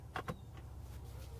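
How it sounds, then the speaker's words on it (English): On a Ford Ranger Raptor, the power rear window gives a brief couple of clicks, then a faint, steady motor whir over a low idling engine hum, with no talking. "I'm going to open that rear window"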